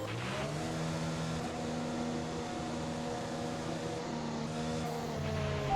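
Race car in the F1 2021 video game accelerating out of a pit stop, engine whine climbing through rising pitch sweeps with gear shifts, steady and prominent with no talking.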